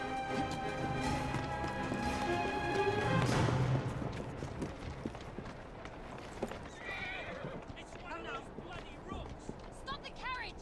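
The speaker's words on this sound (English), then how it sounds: "Stop the carriage! We have trouble!" Horse-drawn carriage hooves clip-clopping steadily in the video game Assassin's Creed Syndicate, with a horse whinnying and game voices speaking over the rhythmic clatter.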